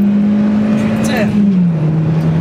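A Hyundai Veloster's engine hums steadily while driving, its tone dipping slightly as revs change, loud and close from inside the cabin with a voice chatting briefly.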